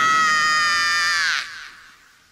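A long, loud, high-pitched human scream held for over a second before it breaks off and fades into the room, heard alone without any talk.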